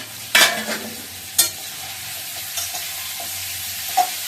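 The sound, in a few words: stirring frying vegetable curry in a pan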